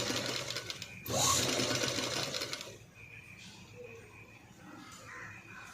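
Sewing machine running close up while stitching piping onto blouse lining, a steady buzzing whirr that swells briefly then drops to a quieter hum, with a voice speaking faintly underneath.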